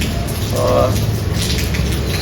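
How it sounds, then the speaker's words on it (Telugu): Heavy rain that has fallen for hours hisses in a steady, dense wash close by. A voice speaks briefly over it. "గత రెండు గంటల నుంచి కురుస్తున్న వర్షానికి"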